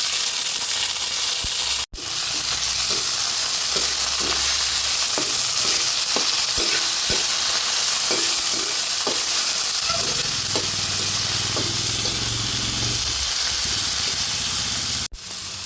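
Tomatoes dropped into a hot frying pan for ginisang monggo, a loud constant hiss of frying oil with clinks and scrapes of stirring, the sizzle shifting lower and bubblier partway through before cutting off briefly.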